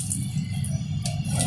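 A glassful of water pours into a pressure cooker holding mince, a steady low splashing gush running throughout, close and fairly loud.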